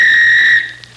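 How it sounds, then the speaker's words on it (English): A single sharp, shrill whistle blast held for about half a second, then cut off into a faint low hum and a tiny trailing chirp. "Guess I'll just take the whistle."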